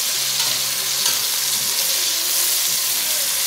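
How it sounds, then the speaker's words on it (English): Vegetables browning in a pan as the base for a fish soup stock, giving a dense, continuous hissing sizzle with faint stirring underneath, close and steady throughout. "we are browning the vegetables for the fish"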